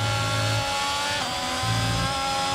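F1 car engine in the F1 22 game at the Japanese Grand Prix: a steady, high-pitched engine whine runs throughout, loud and close, with a slight pitch shift midway.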